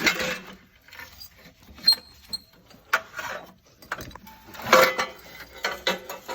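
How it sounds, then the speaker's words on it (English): Exhaust headers coming off a BMW E46 M3 engine after the bolts and studs are loosened: scattered metallic clinks, knocks and scrapes at moderate to faint level, close by, with no talking. "I was able to loosen up all of the bolts and studs, and now I'm removing the headers."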